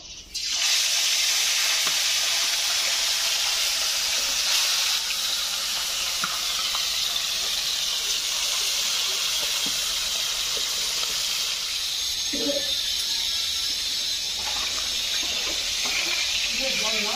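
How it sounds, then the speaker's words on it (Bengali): Pieces of katla fish sizzle steadily in hot oil, a loud, continuous close hiss that runs nearly the whole time with faint voices and small clatters in the background. "তেলটা গরম হওয়ার পরে মাছগুলো ভেজে নেবো।"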